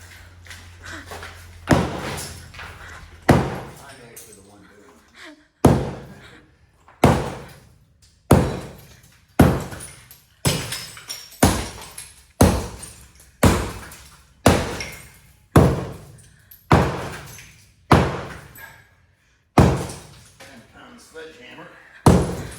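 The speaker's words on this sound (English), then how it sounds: "You're gonna bust the tiles and stuff." Heavy sledgehammer blows smash floor tiles during home demolition, a long series of loud sharp cracking impacts at a steady pace, each followed by debris clatter, with talk between strikes.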